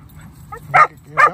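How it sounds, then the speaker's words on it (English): A dog out by the water during a fishing trip gives two sharp, loud yips or barks close by, separated by a short pause, over faint low background noise. "It's awful hard to fish when your dog keeps chasing you."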